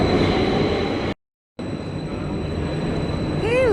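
A Minsk metro train arrives at an underground platform with a loud, steady rumble that cuts out briefly, then resumes and ends with a rising metallic wheel squeal, heard close with no talk.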